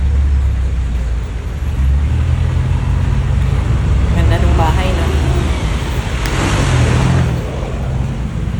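Steady roar of weekday road traffic with many cars, buses and trucks passing on a busy street, a continuous low rumble with swelling pass-bys, while a person talks casually over it.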